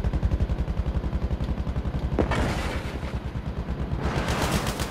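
Rapid gunfire aimed at a Spitfire plane in a video game, a loud, fast regular burst of shots running nearly throughout, with a brief sharper crack partway and a noisier stretch near the end.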